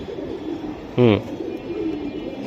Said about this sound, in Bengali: গ্যালাক্সি কবুতর।